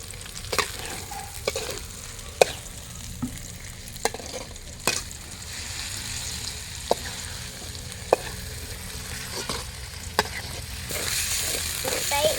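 Ginger garlic paste frying for a rabbit pepper curry, a continuous close sizzle broken by sharp scraping clicks of a spoon stirring against the pan at irregular intervals.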